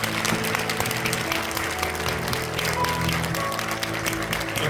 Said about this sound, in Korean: 우리 은퇴자들 위해서 박수 한번 해주시기 바랍니다